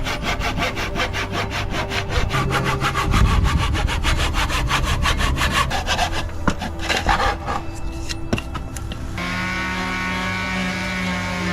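A handsaw cuts a notch into a wooden deck post with fast, rhythmic rasping strokes close up, the pace changing partway through before a steadier scraping finish.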